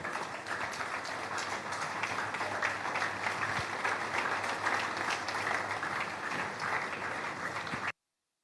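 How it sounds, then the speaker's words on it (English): Steady, dense applause from a large audience welcoming a speaker at a Nigerian forum fills the room evenly for about eight seconds, then stops abruptly. "Please welcome with a warm applause, Dr. Yemi Kale."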